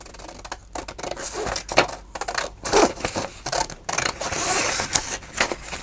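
Paper is cut with scissors in a series of crisp snips and rustles, irregular in rhythm and close to the listener, broken by short pauses and paper handling between cuts.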